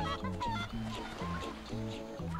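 Chickens in a Crash video game cluck in quick, repeated bursts with steady rhythmic game music or effects beneath, all fairly loud and close.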